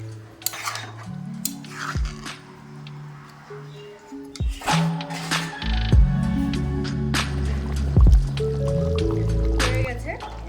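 Chicken pieces with added water braised in a pan for a chicken and potato curry, with wet squishing, bubbling and occasional clinks of a spoon against the pan while a person talks over it.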